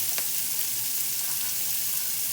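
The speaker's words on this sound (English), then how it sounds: "once it's brown, add the onion" Onion is added to browning garlic for Spam fried rice, producing a steady, moderately loud sizzle and hiss from the pan with a faint tap early on, with no talking.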